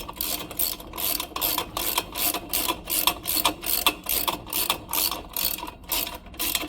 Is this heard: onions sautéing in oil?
no